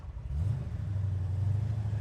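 A 1968 Plymouth GTX idles steadily with a deep, low engine rumble, close and continuous, with no voices.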